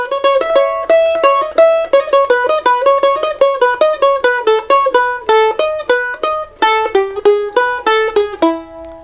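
A bright plucked string instrument picks a quick run of clear notes from the A part of a bluegrass tune, steady and close, ending on a held note with no voices.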